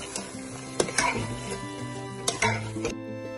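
A spoon scrapes and clinks against a cooking pot while Punjabi-style goat meat is stirred and mixed, a few sharp knocks standing out over a softer continuous scraping.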